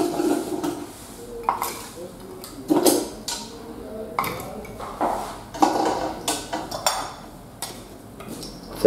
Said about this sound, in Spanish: ya le añadimos el hielo